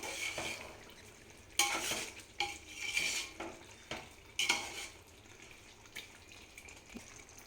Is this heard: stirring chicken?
yes